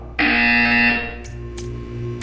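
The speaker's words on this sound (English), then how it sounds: "You will hear a buzzer." A buzzer in the Portal 2 video game sounds as a loud, steady, harsh electronic tone that starts abruptly, holds for about a second, then fades into a lower lingering hum with faint clicks.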